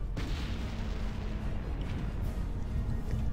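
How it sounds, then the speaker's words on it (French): Game explosions from Knights of the Old Republic, a battle with a Sith fleet ambush, form a dense, continuous rumbling roar of blasts with low booming energy throughout, loud and alone. "Des explosions."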